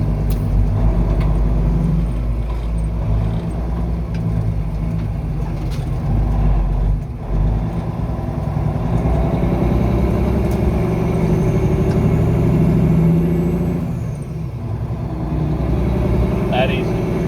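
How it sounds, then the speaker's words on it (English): A truck engine with a 13-speed transmission rumbles steadily and loudly up close, its low drone dipping briefly twice as it comes out of gear during downshifts. "Now when I downshift like a 13 or an 18 speed, I pull it out of gear like that"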